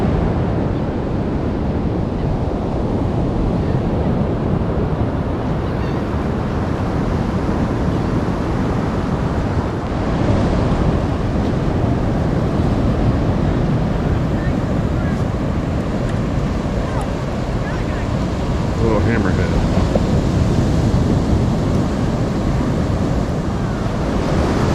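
Surf rolls onto the beach at Hanna Park in Jacksonville, Florida, a steady loud wash of breaking waves mixed with heavy wind rumble on the microphone for the whole stretch.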